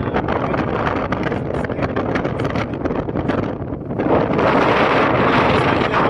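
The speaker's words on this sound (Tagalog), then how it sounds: "Sobrang lakas ng hangin." Strong wind roars and buffets the microphone nonstop at the Zaanse Schans windmills in the Netherlands, a loud rushing blast that dips briefly and then surges again.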